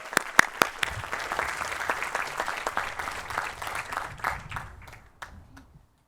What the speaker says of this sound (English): Let's give them a nice round of applause for a lot of hard work and devotion